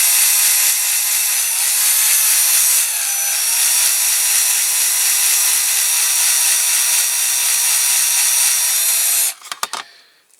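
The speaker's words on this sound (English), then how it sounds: "Keep clearing the end of your drill bit" A steady, loud high-pitched whine of a power drill boring into a metal Dinky Toys fire engine model runs continuously for about nine seconds, then cuts off abruptly, followed by a few short clicks and knocks.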